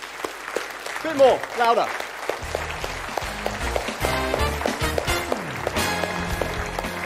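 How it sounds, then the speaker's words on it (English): Applause from a conference audience builds and grows louder in a sustained wash, with a speaker's voice and some musical tones over it. "I want you to just give yourselves a huge round of applause."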